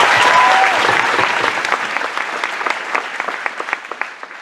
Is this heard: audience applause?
yes